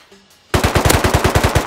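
AK rifle fire in the survival game Rust: after a brief quiet start, a rapid burst of about a dozen evenly spaced, loud, sharp shots rattles out close by, with no talk over it.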